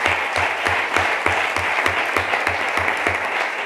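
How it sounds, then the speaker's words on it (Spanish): An audience at a conference on olive groves and biodiversity applauds, a dense, loud, steady patter of many hands clapping that continues evenly throughout. "pido un aplauso para ellos"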